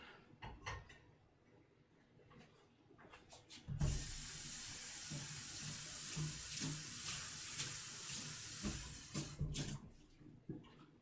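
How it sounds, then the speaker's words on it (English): Duck fat pours off a hot pan in a kitchen, a soft liquid trickle that swells into a steady sustained pour for several seconds before tapering off, with light clinks of the pan around it and no talking. "I'm going to pour off the majority of the fat that I have here in this pan."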